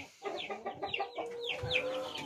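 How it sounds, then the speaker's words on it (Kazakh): Chickens in a poultry coop cluck and squawk in quick repeated calls, several birds overlapping close by at low volume. "Өзіміздің тауықтарымыз да жүр арасында."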